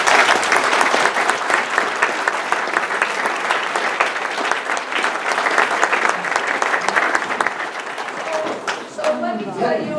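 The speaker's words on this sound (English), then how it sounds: "I just want you to applaud all of them right now." Loud, dense applause from an audience at a camp welcome event rolls steadily for about nine seconds, then a voice begins speaking as the clapping fades.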